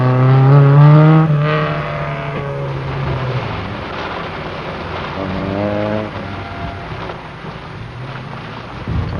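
A 1974 Lebanon–Syria rally, with an Audi rally car's engine droning loudly and revving under strain, its harmonic tone sliding as it passes close by, then fading to a lower, steadier rumble.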